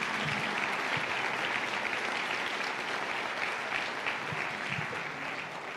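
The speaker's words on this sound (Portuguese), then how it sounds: "aplauda ao Senhor Jesus bem forte" A church congregation applauds loudly in praise, producing a dense, sustained wash of clapping that holds steady for several seconds and eases slightly toward the end.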